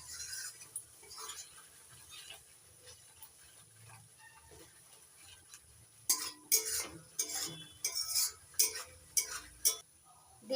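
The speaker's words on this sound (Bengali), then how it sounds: "এবার গ্যাসের ফ্লেমটা লোতে রেখে ততক্ষণই কষাতে থাকবো যতক্ষণ না মশলা থেকে পুরোপুরি তেল ছেড়ে" Spice masala for a jackfruit-and-prawn kofta curry is stirred and slow-fried in a pan on low flame. The first half is a faint, quiet background, then a cluster of sharp spoon-on-pan clinks and scrapes follows.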